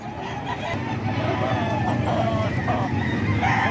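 Roosters at a rooster sale cluck and crow continuously, several birds overlapping close by in a dense, steady chorus with no speech.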